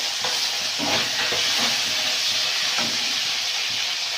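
Steady, loud frying sizzle of tomatoes in ginger spice paste with a continuous hiss, plus occasional soft stirring scrapes, close up and with no voices.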